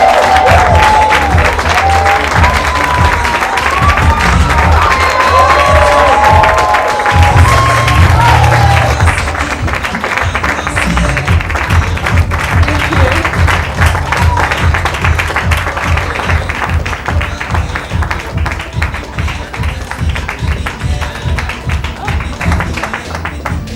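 A large audience claps loudly and continuously to welcome an actress onto a stage, with scattered cheers and whoops early on and dense steady applause that gradually thins.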